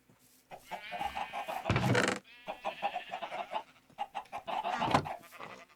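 Minecraft chickens cluck and squawk continuously in short, choppy bursts, with a louder squawk midway through. The calls sound close and busy.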